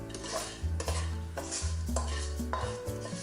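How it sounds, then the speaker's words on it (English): Cooked four angled beans are scooped from a metal pan into a bowl, with a few scraping and clinking strokes of a utensil against cookware. The sounds are close and steady, with no talk. "Scoop the beans into the bowl first"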